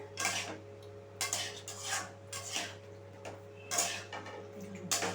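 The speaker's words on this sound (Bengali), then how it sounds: "ফুলকপিগুলো যাতে ভেঙে না যায় সেই জন্য আলতো করে আমি একটু মিশিয়ে দেবো মশলার সাথে" A spoon gently mixing cauliflower florets with spices in a pan, giving soft, intermittent scraping and clinking strokes at a steady unhurried pace over a low steady hum.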